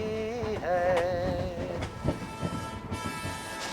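A train rolls along the rails with rhythmic clattering while a wavering whistle sounds near the start, then the rumble carries on.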